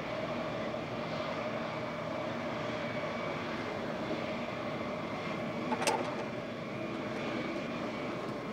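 A private jet's engines drone steadily and loudly throughout, a broad continuous roar with a brief sharper burst near the end.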